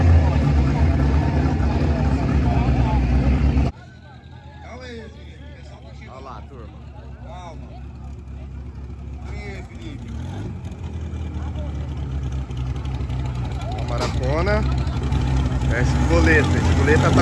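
A VW Up racing a 250 on the street, loud engine roar at first, then a lower, quieter rumble that slowly builds again, with people talking over it throughout.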